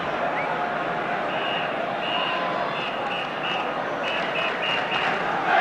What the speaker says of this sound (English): there's a phantom whistler in the crowd